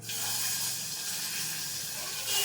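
Eggplants dropped into hot oil with crackling cumin, turmeric and asafoetida, giving a continuous loud hissing sizzle that swells briefly at the start and again near the end.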